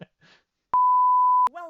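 A single steady censor bleep, a pure tone lasting under a second, cuts over a curse word between brief bits of speech on either side.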